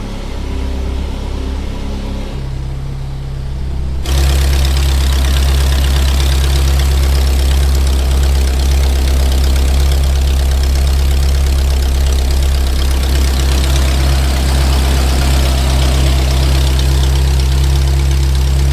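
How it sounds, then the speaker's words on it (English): A Ferrari F1 racing engine with an exhaust leak idles loudly and steadily with a deep rumble and a raspy, ticking edge; it stumbles briefly before settling into a rough, continuous idle. "I listened to the exhaust for a few more moments, and there's definitely exhaust leaks"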